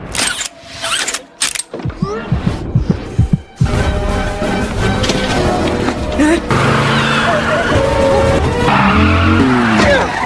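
A car skids and its tires squeal during a chase scene in a film, the screech rising over engine roar and mechanical clatter, loud and close, after a few sharp impacts and a voice at the start.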